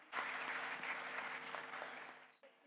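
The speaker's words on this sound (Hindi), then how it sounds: "जोरदार तालियां हो जाए इनके लिए" A small audience at a stock-market options class claps, a short, fairly quiet patter of hands over a steady background hum that cuts off abruptly.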